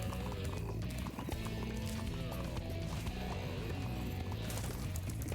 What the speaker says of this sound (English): I like the clickety-clack of their hooves.